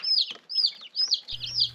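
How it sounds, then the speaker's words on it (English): Young chicks cheep in loud, close, high peeps repeated four or five times in quick succession, with a faint low hum in the background. "The plan for these chicks is to diversify our laying flock a little bit."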